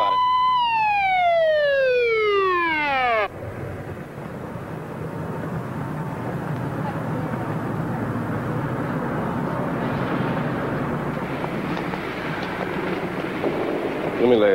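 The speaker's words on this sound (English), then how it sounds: "Get ready to turn on the siren." A police siren wails in rising-and-falling sweeps for a few seconds, then cuts off abruptly, leaving a steady rumbling engine and road noise.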